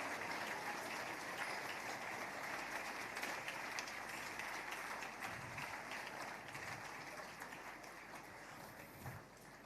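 Audience applause keeps going at a Nigerian business talk event after the closing words, a steady dense wash of many hands clapping with no voice over it, easing slightly toward the end.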